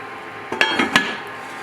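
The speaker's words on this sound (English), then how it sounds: "We're gonna put the lid on it." A lid clinks onto a pot of coconut milk seafood stew with scallops and crawfish, giving three quick metallic taps over a steady low hum.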